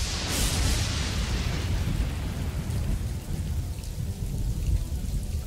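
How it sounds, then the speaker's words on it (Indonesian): Heavy rain pours in a thunderstorm, a loud dense roar of falling water with deep rumbling thunder rolling underneath throughout. "turun hujan"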